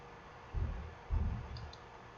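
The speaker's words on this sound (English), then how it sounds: "Just click on apply and click on OK." Two soft, close computer mouse clicks land about half a second apart in a quiet room, with no talking.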